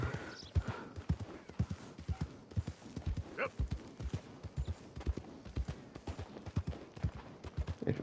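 Horse hooves clip-clop in the video game Red Dead Redemption 2, a close, steady rhythm of walking steps. Someone talks over them at times.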